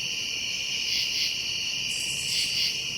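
Dense, steady chorus of crickets chirping at night beside a lake in a national forest, high shrill trilling that swells and pulses continuously, moderately loud with no talking.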